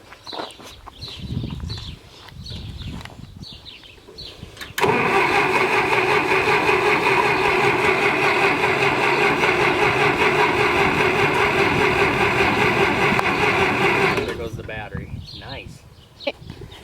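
A Massey Ferguson 65 tractor that has sat unused for years cranks for a few seconds and then catches, roaring into a loud steady run for about ten seconds before it dies away. People talk over the cranking before the engine starts.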